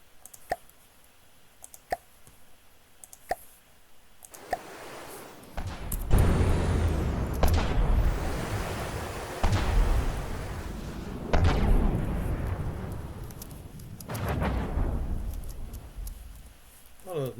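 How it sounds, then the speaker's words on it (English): Missiles in the naval combat game From the Depths: sharp launch clicks at first, then a series of loud booming explosions and rumbling blasts that swell and decay in waves, with a voice talking between them. "All those missiles missed."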